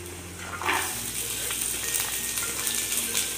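Chopped onions dropped into hot masala sizzle loudly in a pan, with a steady frying hiss and faint stirring scrapes continuing throughout.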